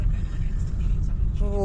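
Low, steady engine and road rumble inside a moving Haval car, a continuous hum heard from the cabin, with someone talking over it.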